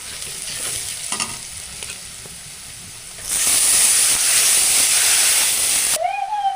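Onions, ginger-garlic paste and garam masala frying and being stirred in a pan, a steady close sizzle and hiss with scraping that grows louder and brighter partway through, then a brief high squeak near the end.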